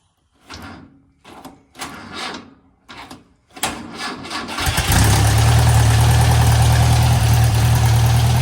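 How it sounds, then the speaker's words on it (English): A French-built Massey Harris Pony 812 tractor engine is started with a pull-button starter: several short separate cranking bursts, then the engine catches and settles into a loud, steady idle. "You got this little button to pull on here, and that activates the starter."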